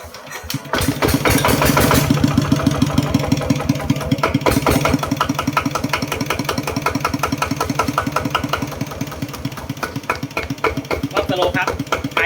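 A Kubota 11 hp diesel engine idles loudly and close, with a steady rapid chugging pulse that continues throughout.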